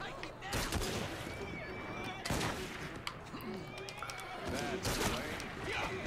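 Several sharp gunshots ring out in Assassin's Creed Syndicate, mixed with horse hooves and carriage noise, while a voice talks over the action.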